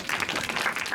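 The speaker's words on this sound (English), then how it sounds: "Now you can clap." Audience applause at a film premiere for the Iceland screening of Impure, a dense, steady wash of many hands clapping close and loud through the whole short moment.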